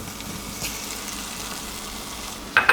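Sliced cherry tomatoes sizzle in olive oil in a pan while shrimp scampi is cooked, a steady close hiss with a brief sharper clatter near the end.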